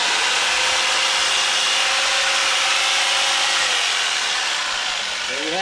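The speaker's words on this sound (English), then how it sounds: "Solar powered jigsaw." A solar-powered jigsaw run from a van's inverter saws through wood, a loud close continuous buzzing cut that holds steady for several seconds before easing slightly at the end.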